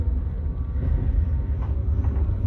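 The rear carriage of a moving passenger train running from Yakutsk to Vladivostok, giving a loud, continuous low rumble and rolling drone from inside the car, with no talking.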